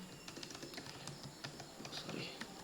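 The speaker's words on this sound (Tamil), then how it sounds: "யூரியான்னு டைப் பண்ணிட்டு" Rapid, light keystrokes tap out on a computer keyboard while entering a test name into lab software, the clicks close and irregular over faint room hiss.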